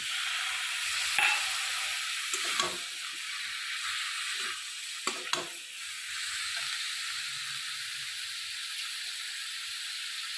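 Tomato paste sizzling in a hot pan for a cauliflower roast korma, a steady bright frying hiss with a few sharp spatula scrapes and stirring knocks near the start and middle.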